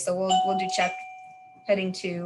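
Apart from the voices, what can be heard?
dog doorbell ringing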